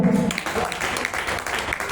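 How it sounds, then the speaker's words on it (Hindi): Audience applause for the CMD at a gathering in Madhepura, a dense steady wash of clapping throughout, fairly loud and close, with a brief voice at the start. "सीएमडी सर के लिए एक बार जोरदार ताली"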